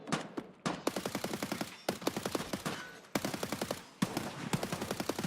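Rapid automatic gunfire from the video game Escape from Tarkov, a PvE raid, fires in several sustained bursts of quick, sharp shots that fill the whole stretch, loud and close.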